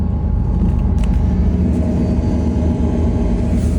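A Porsche Boxster engine idles steadily with a low, even rumble, close by and continuous throughout.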